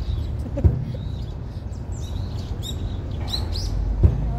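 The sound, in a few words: birds chirping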